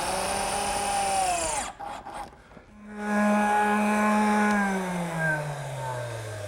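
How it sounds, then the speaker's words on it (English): A power drill drives 1 1/4 inch screws through a wooden table base into the top in two bursts of whining motor. The pitch shifts under load and falls as the screw seats, loud and close. "flip it over onto my top, get it positioned on some marks that I made, and fasten it with some 1 1/4 inch screws"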